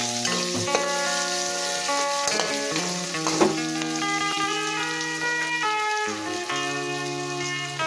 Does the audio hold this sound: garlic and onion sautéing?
yes